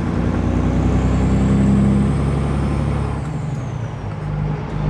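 Kenworth truck with an 18-speed transmission, a loud steady engine drone with a brief hiss and a drop in pitch partway through as a gear changes.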